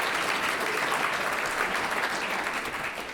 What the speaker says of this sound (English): Let's give him a round of applause for that great presentation.